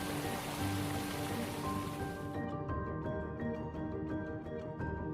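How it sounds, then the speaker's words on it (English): Dense rushing water from the Rain Vortex, the tall indoor waterfall at Jewel Changi Airport in Singapore, roars like heavy rain, then gives way to softer dripping and splashing over a low background hum. "At the heart of Singapore's Jewel Changi Airport lies the Rain Vortex, the world's tallest indoor waterfall."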